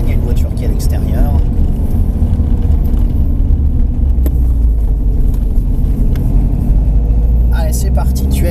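A car on a driving course rumbles loudly up close, its engine rising and easing as it accelerates and brakes, with a voice talking over it.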